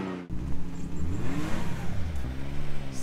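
A stuck car revs its engine in medium bursts while rocking back and forth, the engine rising and falling close by with a whirring tone over several seconds.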